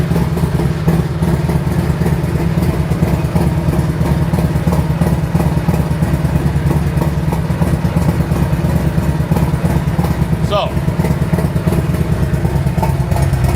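A Harley-Davidson 117 engine with a 472 cam and a 2-into-1 Redline exhaust idles steadily up close, a loud, even, lumpy rumble that continues without a break.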